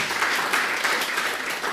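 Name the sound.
audience applause for an award recipient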